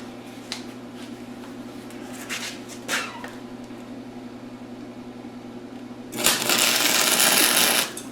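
Tack welding the corners of a metal go-kart frame, heard as a low steady hum with a few faint clicks, then a loud harsh crackling hiss of about two seconds near the end.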